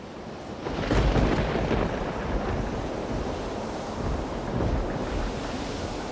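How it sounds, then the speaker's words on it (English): Wind roars over a stormy sea as huge waves crash around a small boat, a loud, continuous rushing wash that swells near the start and rolls on without a break and without voices. "The wind blew hard and the little boat struggled to get over the huge waves."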